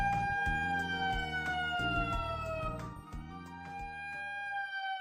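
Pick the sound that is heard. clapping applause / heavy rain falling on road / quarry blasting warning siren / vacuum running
quarry blasting warning siren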